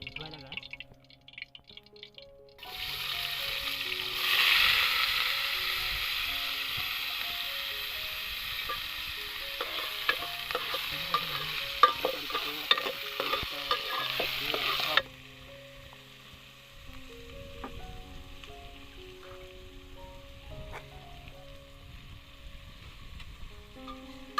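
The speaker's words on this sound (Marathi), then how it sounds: "तेल सुद्धा लगेच गरम होतोय कांदा सुद्धा टाकून घेऊया" Onion dropped into hot oil and ghee for a chicken gravy, a sudden loud crackling sizzle that holds for about twelve seconds with spattering bursts, then drops to a quieter, steady frying hiss.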